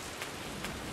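Heavy rain in the horror video game No One Lives Under the Lighthouse, a dense, steady hiss of downpour with faint swells, continuous and close, with no voices over it.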